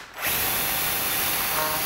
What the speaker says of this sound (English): let's put this in here and let's drill a hole